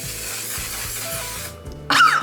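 A short hiss of makeup setting spray is sprayed close by, following a low steady hum, with no talk.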